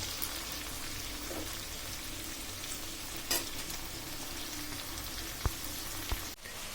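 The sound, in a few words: frying bitter gourd in a pan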